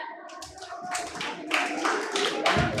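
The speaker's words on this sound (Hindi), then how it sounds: "प्लीज आए राहुल जी, तालियां हो जाए।" Audience at an open mic session of a literature festival applauding a performer named Rahul, a burst of close, scattered hand claps that swells in waves and keeps going throughout.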